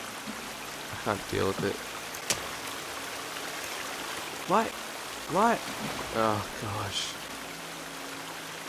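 Steady water flowing in the survival game The Forest, a constant rushing wash that runs the whole time beneath several short bursts of talking.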